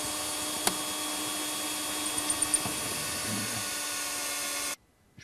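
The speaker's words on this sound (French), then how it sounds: "Je positionne bien ma visseuse perceuse sur le point de marquage, bien perpendiculaire au mur" A cordless drill-driver bores a hole into a wall to mount a smoke detector, giving a steady, close whine for nearly five seconds before cutting off abruptly into near silence.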